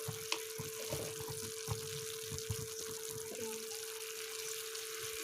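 Water pours into a rice-flour and sugar batter for palm-fruit fritters, a steady close splashing hiss that runs the whole time over a faint low hum, with a few small knocks and clinks.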